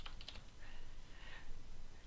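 Soft rapid keystrokes on a computer keyboard while renaming a layer in Photoshop, a quiet pattering of light clicks lasting about two seconds, close and alone with no talk.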